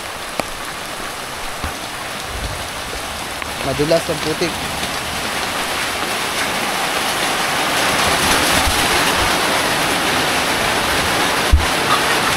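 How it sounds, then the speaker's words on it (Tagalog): Heavy rain pours on a farm, a dense steady hiss of drops that grows gradually louder, with a person speaking briefly over the downpour. "Ayan na, lumakas na naman ang ulan mga man."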